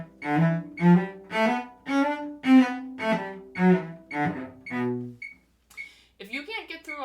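A cello sounding slurred pairs of notes with a short rest after each pair, warm bowed tones pulsing evenly and close, followed by a brief pause and a few quieter, scratchier sounds at the end.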